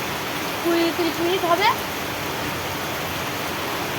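Heavy rain falls on open village farm fields as a steady, loud, broadband hiss throughout, with a voice speaking briefly near the start.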